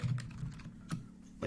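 Someone types text on a computer keyboard, producing a quick run of soft, close key clicks with a few sharper taps.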